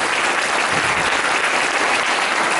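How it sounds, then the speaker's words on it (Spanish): A Spanish-speaking church congregation at a united worship service clapping for Jesus, a dense, continuous, fairly loud round of applause with no pauses. "Dale palmas a Jesús"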